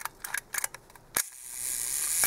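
A 1956 Leica IIIg Barnack rangefinder camera fires its shutter at the one-second speed, a sharp mechanical click opening the exposure and a second crisp click closing it about a second later, with faint handling clicks before it.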